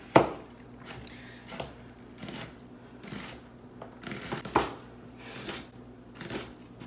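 A knife slices vegetables into thin slivers on a cutting board for salsa chicken, giving a series of crisp, uneven chops and board knocks close by.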